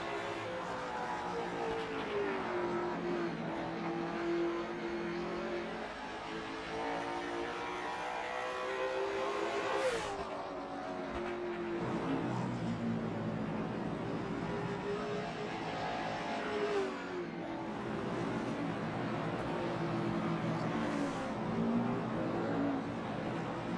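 Race cars lapping the Oswego track during an ASRL bronze performance race, engines droning steadily at a distance with rising and falling pitch as cars circle, a continuous layered roar throughout.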